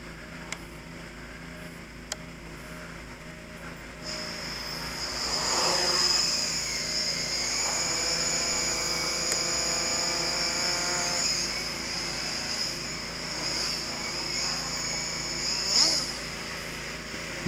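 A 330mm 9-inch SP Racing F3 freestyle FPV quadcopter hovers nearby, its high whining propeller buzz rising and holding steady for several seconds over a background hum.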